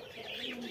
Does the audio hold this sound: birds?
yes